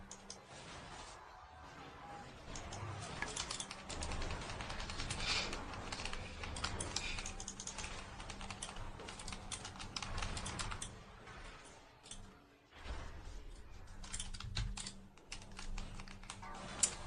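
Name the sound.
typing on a computer keyboard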